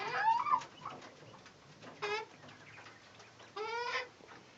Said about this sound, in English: These guys are nice little tame chickens.